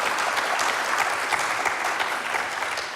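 Crowd at a morning business showcase gives a short round of steady, dense clapping for about three seconds.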